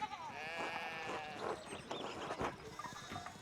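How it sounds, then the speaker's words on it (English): Sheep bleat in the medieval adventure game Pentiment, several wavering calls overlapping across a steady bed of ambient game sound, fairly close and clear with no talking. "we need to get these sheep under control"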